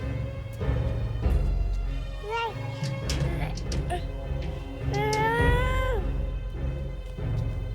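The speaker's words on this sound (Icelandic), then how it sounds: "Kettlingin er þarna." A kitten meows in a rising and falling cry twice, around the middle and again near the end, over a steady background hum and low rumble in an Icelandic film scene.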